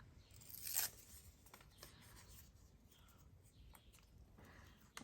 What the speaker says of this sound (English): I'm going to tear it.